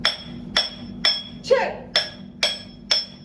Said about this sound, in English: You place the drill steel into the wall and you start.